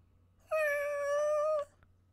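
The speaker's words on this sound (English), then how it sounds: "It almost sounds like cats" A single drawn-out cat meow from the video game Minecraft Story Mode, clear and tonal, rising then holding for about a second before cutting off.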